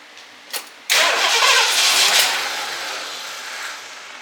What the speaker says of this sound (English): Let's see if it'll even run on that nasty stuff.